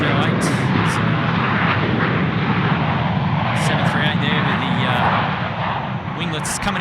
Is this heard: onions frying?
no